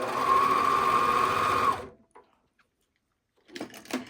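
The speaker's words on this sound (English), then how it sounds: "Okay, this is how I'm doing the serging." A serger overlock sewing machine trimming and stitching fabric, a fast close mechanical whir running steadily for under two seconds, then stopping, followed by silence and a few soft handling clicks.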